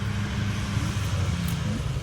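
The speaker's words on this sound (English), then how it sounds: "because there's a lot of vehicles going on around here." Steady road traffic from many vehicles, cars and trucks rumbling past together in a constant low drone with no voices.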